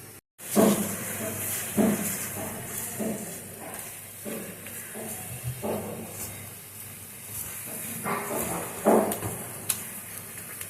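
Vegetables frying in oil in a pan, a steady broad hiss and sizzle running throughout with brief louder crackling bursts and faint clatter.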